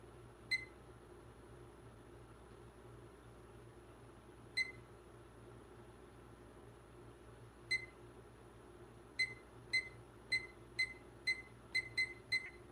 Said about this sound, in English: timer set for 15 minutes